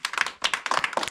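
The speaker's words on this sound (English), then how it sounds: "Let us clap for our doctor." A small group claps for a doctor at a home gathering, a brief burst of uneven hand claps in short clusters separated by tiny pauses, close and moderately loud.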